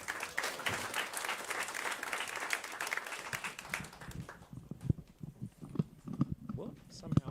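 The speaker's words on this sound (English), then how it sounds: "Please give him a round of applause." An audience at a food systems conference applauds a speaker returning to the stage, with steady clapping that dies away about halfway through before footsteps and a voice begin.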